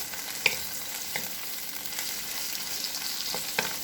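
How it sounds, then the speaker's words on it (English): Bean sprouts stir-frying in a wok for shrimp chow fun, a steady crackling sizzle with occasional scraping clicks of a utensil, moderately close and without speech. "I'm going to add in the bean sprouts."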